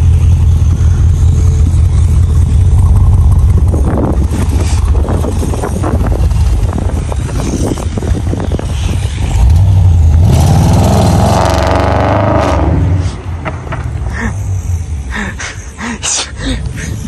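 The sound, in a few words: Audi RS6 C7 with Akrapovic exhaust accelerating in a parking lot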